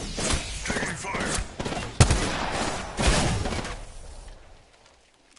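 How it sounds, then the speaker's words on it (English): Video game gunfire comes in sharp cracks and bursts through the first four seconds, loud and close with a heavy thump near the middle, then fades to near silence, with voices mixed in. "Taking fire."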